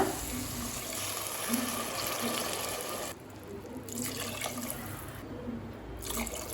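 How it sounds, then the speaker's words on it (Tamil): Steady rushing water runs for several seconds with a few brief dips as three cups of water are poured into a cooking pot for vegetable pulao. "3 கப் தண்ணி சேர்த்துக்கலாங்க."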